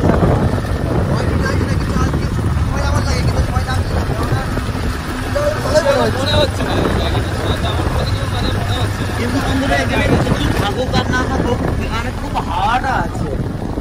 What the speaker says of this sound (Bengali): দারুণ হাওয়া এখানে